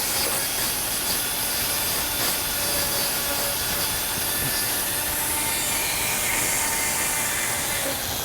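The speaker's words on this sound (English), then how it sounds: "The buffing wheel comes in after to finish that off." A buffing wheel spins against carved bald cypress bonsai deadwood, giving a steady, dense whirring rasp with a faint tonal whine. The sound stays close, loud and unbroken throughout, with no voices.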